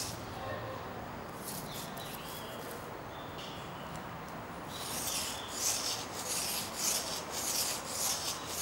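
An engraving gouge sharpened on sandpaper, a steady close rasping rub that grows louder and more rhythmic in the second half, with no talk.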